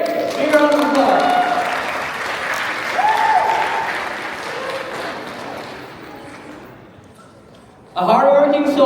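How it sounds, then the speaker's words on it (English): A crowd at a Nepal Night performance applauds steadily, gradually fading, before a voice speaks loudly over the tail end of the clapping. "Big round of applause."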